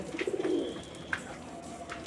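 A pigeon, a Madras pigeon, gives a soft, low cooing call up close, followed by quiet background ambience.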